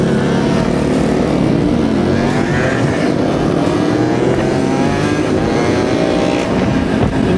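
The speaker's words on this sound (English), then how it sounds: "Just in front of me here is my dad on his Honda ST90." Small motorcycles, including a Honda ST90, ride along together on a small-bike adventure ride, their engines giving a loud, continuous buzzing drone with shifting pitch, close and uninterrupted throughout.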